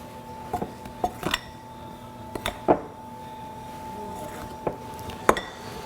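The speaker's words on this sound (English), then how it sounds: "And so now we're gonna be putting our baking powder in our flour. And we're gonna mix this now." A utensil stirs baking powder into flour in a bowl, giving a series of irregular clinks and scrapes against the dish, moderately close, with quiet gaps between strokes and no speech.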